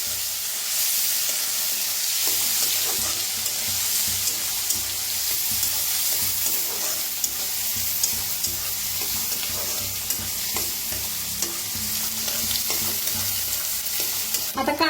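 Onion fries in a pan with a steady close sizzle while a utensil stirs and scrapes through it now and then, for Marathi-style brinjal and potato bhaji.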